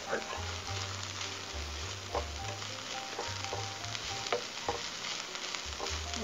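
Vegan sloppy joe mixture fries in a hot skillet with a steady close sizzle and crackle, broken by scraping stirs, faint beneath a low hum.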